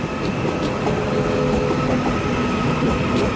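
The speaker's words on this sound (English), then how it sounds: "we've got this northern service departing for Manchester Airport" A Northern passenger train pulls out of Manchester Piccadilly station bound for Manchester Airport, producing a steady loud rolling rumble with faint wheel clicks and squeals throughout.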